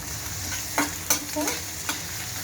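Sliced onion in hot oil sizzles steadily in a pan, a constant hiss broken by a few sharp scraping stirs of a utensil.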